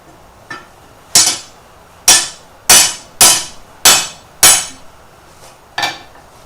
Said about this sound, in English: It is so much faster with the power hammer